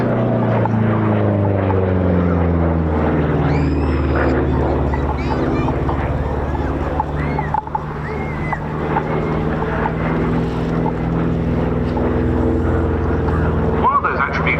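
A P-47D propeller fighter flies past at an air show with a loud, continuous engine drone that rises and falls, while a commentator talks over a public address system.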